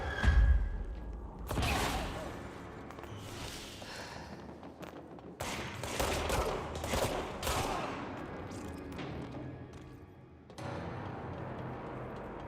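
Rocket explosions in Control ring out in a series of loud, sharp blasts, the first heavy and booming, the rest crackling bursts spread across several seconds with rumbling gaps between them.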